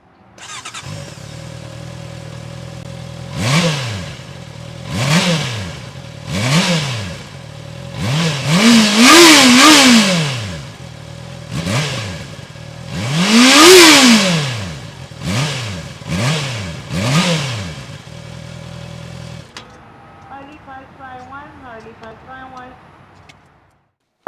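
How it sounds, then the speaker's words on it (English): A Honda CBR650R sport motorcycle's exhaust revs repeatedly, sharp throttle blips rising and falling in pitch, some long and loud, before settling to a steady idle. "let's listen to this exhaust"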